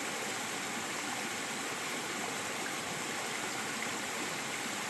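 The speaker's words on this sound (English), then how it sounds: "Pretty little falls on the way back." A small waterfall beside a trail near Stiles Falls in Floyd County, Virginia, pouring in a steady, broadband rush that stays constant and fairly close for the whole stretch, with no voices or other sounds.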